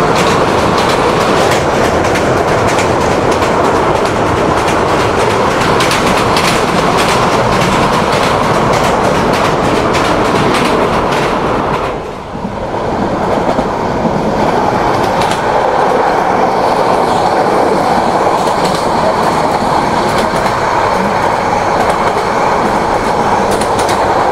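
Sonar Bangla Express, a meter-gauge passenger train, running at 80 km/h on the Dhaka–Chittagong route: a loud, steady roar of wheels and rail with clickety-clack rhythm, continuous throughout with one brief dip midway.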